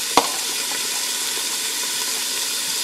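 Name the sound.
green peppers and onions sweating in a pot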